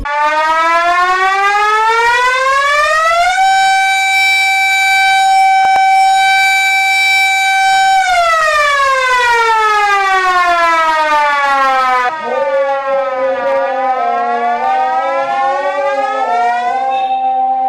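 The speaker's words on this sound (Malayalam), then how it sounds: "Trikaripur town മസ്ജിദിലെ alarm" An alarm siren on the minaret of Thrikaripur Town Juma Masjid announces the time to break the fast with a loud, continuous wail. It rises, holds a long steady tone, falls, then rises again.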